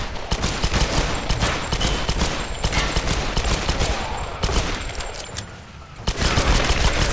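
Sustained enemy gunfire in Tomb Raider, loud rapid bursts of shots overlapping almost continuously, easing briefly before resuming.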